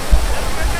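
Talon Pari Falls waterfall at DRT, a loud, steady, close rush of falling water in a brief burst, with a voice mixed into the roar.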